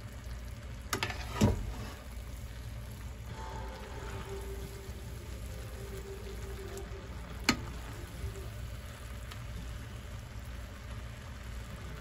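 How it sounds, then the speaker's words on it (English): Noodles sizzle steadily in a hot pan at home while being stirred, a soft constant frying hiss with occasional clinks of the utensil against the pan and a faint TV murmuring in the background. "ASMR noodles stirring"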